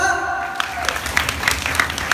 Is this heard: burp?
no